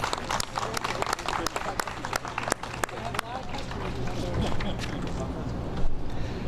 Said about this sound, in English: So please give a round of applause for Pop That Pop on the Grove.